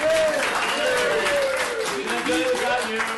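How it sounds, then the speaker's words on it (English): An audience applauds a game's lead gameplay engineer, a steady wash of clapping running throughout while a presenter's voice talks over it. "Let's clap for Archie Prakash."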